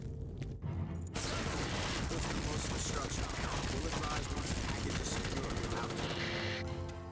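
Sustained heavy gunfire in the shooter game Black, an asylum level, a dense continuous roar of overlapping automatic shots and blasts, loud and close, after a brief quiet opening.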